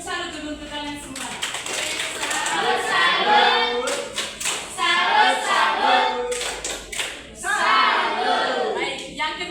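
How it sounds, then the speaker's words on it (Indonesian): Classroom students join in a rhythmic salute clap during an Indonesian-language lesson, with patterned group clapping mixed with loud children's voices chanting along, close and lively. "Tepuk salut dulu untuk kalian semua."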